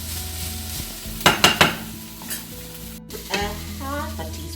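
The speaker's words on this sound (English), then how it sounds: "Keep frying away for some more." Fish mappas cooking in a pan sizzles steadily while a utensil scrapes and stirs in a few sharp, close strokes, with faint clinks of cookware and no voices.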